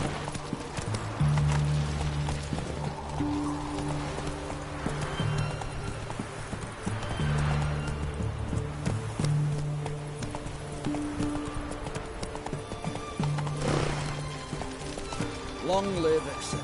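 Roach the horse galloping in The Witcher 3, steady clip-clop hoofbeats carried under game music and spoken voices for the whole stretch, with a brief snort near the end.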